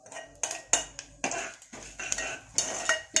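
A metal spoon scrapes and clanks against a pan while leftover mixed vegetables are stir-fried with asafoetida and salt, giving sharp irregular clinks and scraping strokes up close, with no talk.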